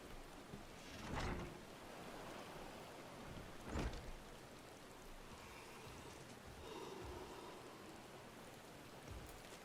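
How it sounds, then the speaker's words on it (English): Rain falls steadily during a cutscene in Final Fantasy XIV: Endwalker, a soft constant patter punctuated by a couple of louder whooshing gusts, with no talk. "And it's cutscene time in the rain."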